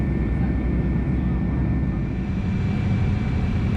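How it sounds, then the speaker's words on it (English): Inside an Air Inuit Boeing 737-200 airliner on approach, a loud, steady cabin roar of engines and airflow fills the space, constant and unbroken, with no clear speech. "after an emotional flight, we are on approach to Grande again"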